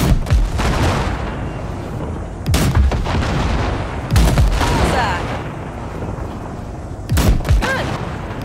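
Heavy weapons blast ship wrecks in Cyberpunk 2077, with loud booming shots in bursts, each followed by rumbling, crackling debris and roaring fire.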